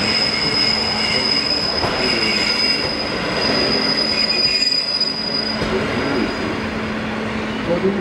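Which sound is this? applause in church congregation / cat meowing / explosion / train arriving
train arriving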